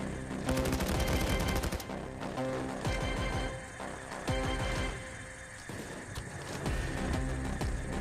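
Rapid gunfire in the video game Payday during a bank robbery, dense bursts of automatic shots layered over game music and effects, continuous and busy throughout.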